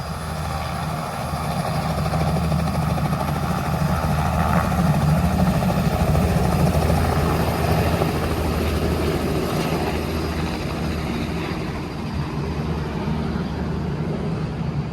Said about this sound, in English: I do have a helicopter here taking off in a little bit.